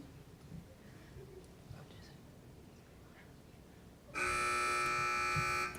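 A quiz competition buzzer at a Hi-Q match sounds as one loud, harsh electronic tone lasting about a second and a half, after a stretch of quiet room murmur.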